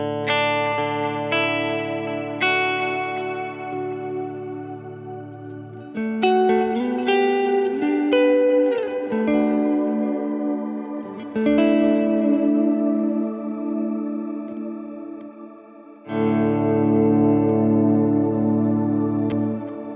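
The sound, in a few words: guitar with shimmer reverb effect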